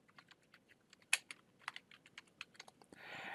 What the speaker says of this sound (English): So we could just type in gray parts.